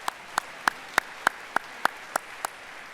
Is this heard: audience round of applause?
yes